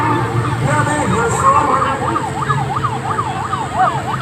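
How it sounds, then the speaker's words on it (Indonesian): A loud ambulance siren cycles rapidly up and down while it passes along a badly damaged provincial road in Simalungun, with road noise and engine rumble beneath the wail. "Nah, jadi ini kita sedang berusaha melewatkan ambulans."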